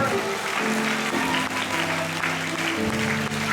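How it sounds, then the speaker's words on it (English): A church congregation at a praise service claps hands continuously, a dense, loud, steady wash of applause with a faint sustained tone beneath. "Somebody clap your hands and give God praise."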